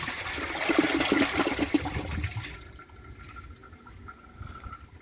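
A 2009 Jacuzzi Perfecta toilet flushes with a loud rushing swirl of water close by, draining after a couple of seconds into a quieter trickle and refill hiss.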